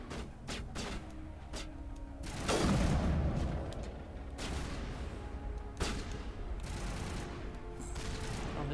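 Explosions and gunfire in the Mass Effect Legendary Edition video game, with a heavy booming blast partway through among scattered shots and rumbling effects.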